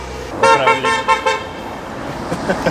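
A car horn toots several times in quick succession, loud and nearby, as a friend drives off past a Racing Yellow VW Golf mk1 GTD, followed by fading roadway noise.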